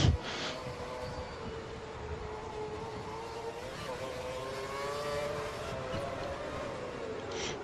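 A Formula 1 car in F1 2012 runs flat out at full revs around Monaco, a steady, dense, high-pitched engine drone that barely changes across the whole stretch.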